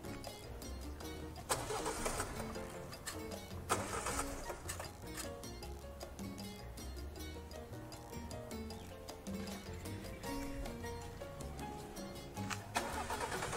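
A car engine cranking repeatedly without catching, with several churning starter bursts of a few seconds each separated by short gaps, close and fairly loud with no talk.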